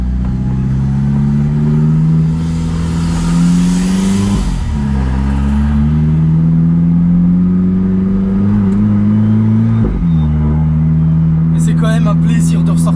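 Alfa Romeo 4C engine, tuned to 320 hp, loud rising revs held near 5000 rpm, twice dropping sharply with a crackle before climbing again, ending in a burst of pops and bangs.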